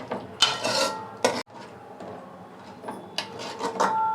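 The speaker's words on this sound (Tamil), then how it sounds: "நல்லா கிண்டி விட்டுக்கலாம்" A metal spoon scrapes and clinks against a pan of potato masala, with irregular stirring strokes and occasional sharper knocks, close and fairly loud.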